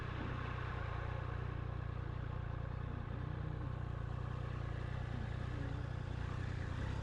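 A Triumph Daytona 660 motorcycle cruises steadily in third gear at about 30 mph, a constant engine drone heavily blended with wind rush, with no clear revs or shifts throughout.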